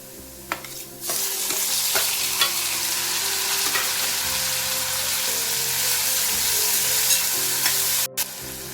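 Potatoes and tomato sizzle and crackle steadily in a frying pan for sabudana khichdi, with loud continuous frying, occasional stirring and a brief clatter near the end. No one speaks.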